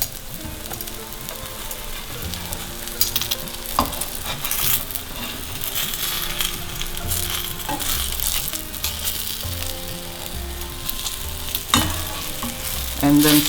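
Eggplant slices fry in a little oil in a pan with a steady close sizzle, punctuated by occasional clinks and scrapes of a utensil against the pan.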